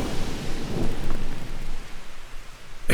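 Heavy rain pours steadily in a Tears of the Kingdom game scene while a deep thunder rumble rolls through, loud and close, with a sharp crack at the end.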